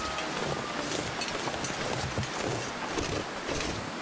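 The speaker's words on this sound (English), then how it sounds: "Oh, it's gonna be cold wind." Cold wind in The Long Dark, a loud, continuous roaring gust with a rough, buffeting texture and no voices over it.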